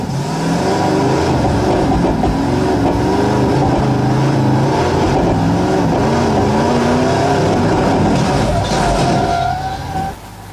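Vehicle engines in a BeamNG driving game replay, a loud sustained revving drone with wavering pitch and a steady engine tone, fading slightly at the end.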